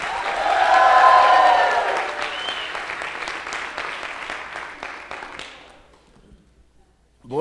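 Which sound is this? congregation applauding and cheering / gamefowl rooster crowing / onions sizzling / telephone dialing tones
congregation applauding and cheering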